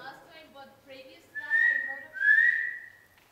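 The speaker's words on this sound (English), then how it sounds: "Two whistles like that" Two rising whistles, clear and fairly close, after a stretch of quiet talk.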